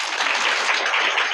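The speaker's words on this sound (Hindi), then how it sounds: "इनके लिए एक बार ताली हो जाए।" Students at a school general knowledge quiz applauding, a brief, dense burst of many hands clapping close by with no talk over it.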